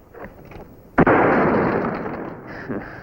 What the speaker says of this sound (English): Let's show the sheriff here some fancy shooting.